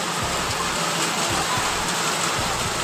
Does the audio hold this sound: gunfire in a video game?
no